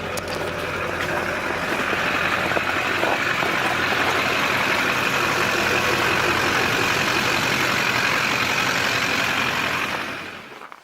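A diesel LB7 Duramax truck engine runs steadily with a stock exhaust and an upgraded cold air intake, a continuous loud droning rumble with a higher whooshing hiss on top, cutting off near the end.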